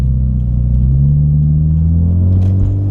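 Car driving over bumpy roads, a loud continuous low engine rumble with a rising drone as it accelerates, close inside the cabin with no talk.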